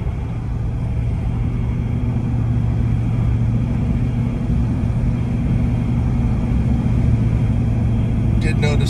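A 1969 Mustang Grande cruising down a road, its engine a steady low rumble with road and wind noise that holds even and continuous from start to finish.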